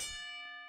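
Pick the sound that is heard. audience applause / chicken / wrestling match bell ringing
wrestling match bell ringing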